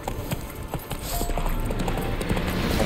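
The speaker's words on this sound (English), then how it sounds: "Let's get my horse before I die here." Horse hooves clip-clop at a steady gallop in the video game The Witcher 3, a quick rhythmic pounding that holds close and fairly loud for the whole stretch, with no talk over it.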